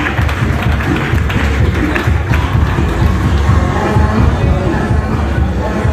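Steady, dense applause from a large seated audience at a young lawyers' forum in Ado-Ekiti, loud and continuous with a crowd murmur underneath and no break throughout.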